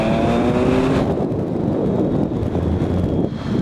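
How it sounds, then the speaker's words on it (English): Triumph Speed Triple naked motorcycle on a ride, its engine and heavy wind rush loud throughout, with faint crackling exhaust pops on the overrun buried under the roar. "is that a load of pops on the overrun?"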